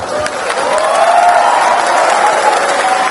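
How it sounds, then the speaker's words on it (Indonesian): An audience applauds steadily at a campus question-and-answer session between a presidential candidate and university students in Pontianak, a dense wash of clapping filling the moment with no one talking over it. "Tepuk tangan dong."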